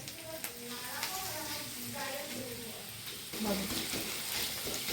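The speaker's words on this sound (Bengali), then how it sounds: "বন্ধুরা পেঁয়াজটা সুন্দর হালকা সেঁতলে নিয়েছি, এবার দিয়ে দেবো আদা বাটা" Ginger paste hitting a pan of lightly softened onions, frying with a steady sizzle and occasional stirring scrapes, continuous and close, with a voice talking over it throughout.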